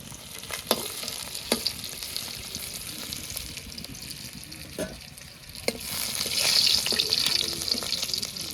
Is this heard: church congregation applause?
no